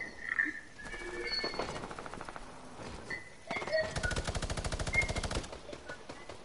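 Rapid automatic gunfire from a first-person shooter game rattles in two long bursts, with scattered single shots and game effects between them, loud and close, while a player's voice can be heard faintly in the background.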